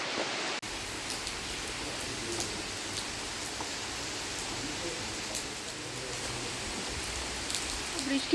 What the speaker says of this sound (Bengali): কন্টিনিউয়াসলি বৃষ্টি পড়ছে